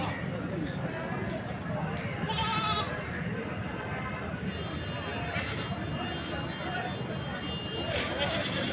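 Goats bleat repeatedly at a busy goat market, several calls rising over a constant crowd murmur, with people talking nearby throughout.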